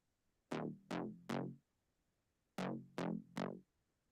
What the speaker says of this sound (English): So in solo, that Moog now sounds like this.